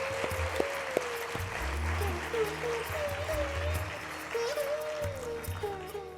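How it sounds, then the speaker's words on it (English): A distant audience applauds at a ceremony. The clapping forms a soft, steady wash of sound, with faint music tones running beneath it. "give a big round of applause to all the people who have contributed directly or indirectly for their invaluable contributions"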